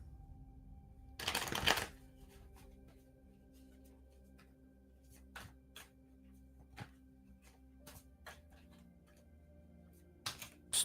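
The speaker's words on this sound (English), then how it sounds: "Tell me when to stop shuffling." Tarot cards are shuffled in a brief, crisp riffle burst near the start, then scattered soft taps and card handling follow in a quiet room.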